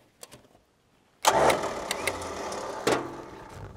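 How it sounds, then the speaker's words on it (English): A 4x4 winch starts abruptly after a quiet pause, its motor whirring steadily and loudly as the cable pays out for a couple of seconds, with a brief bump partway through. "you will need to disconnect your isolator so your winch actually works, and run it out just half a second"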